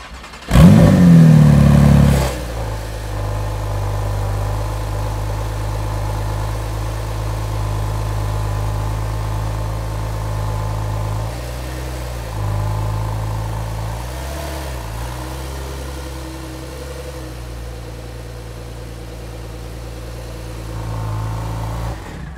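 Ferrari California engine starting on a London hotel street, a loud revving bark at startup settling into a deep, steady idle with a few small blips in throttle.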